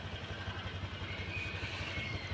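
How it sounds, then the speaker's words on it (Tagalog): A motorcycle engine idles steadily while warming up before a ride from Pampanga toward Manila, a low even rumble with a faint clatter, close and continuous for a couple of seconds with no talk. "painit lang natin yung motor"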